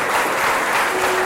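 A church congregation applauding during a Catholic sermon on the rosary, loud and close, a continuous dense roar of clapping with a faint steady tone running beneath it.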